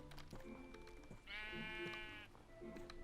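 A sheep bleats in a blocky sandbox video game, one clear wavering bleat of about a second, loud and close, amid quieter game sounds.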